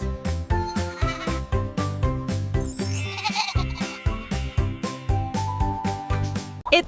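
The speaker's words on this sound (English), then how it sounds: "It's a goat." A goat gives a strained, wavering bleat midway through, riding over a bouncy, pulsing music backing that continues steadily throughout.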